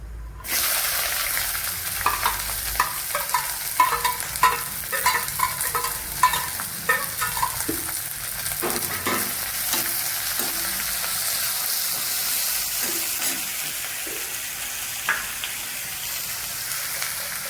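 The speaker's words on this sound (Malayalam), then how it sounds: "ഇതിൽ സവാള വഴണ്ട് വന്നിട്ടുണ്ട്" Onions sautéing in a pan for a fish curry, a steady close sizzle of frying with repeated scraping and stirring clicks from a utensil throughout, no voices.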